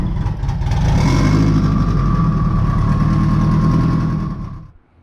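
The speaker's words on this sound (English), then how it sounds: "got the car together and started it up" A car engine, just reassembled as part of the build, running steadily at idle with a constant low rumble for about four seconds before cutting off abruptly near the end.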